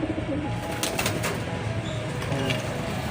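Soft, repeated cooing of pigeons in a pigeon loft over a steady murmur of background noise, with a few brief calls standing out.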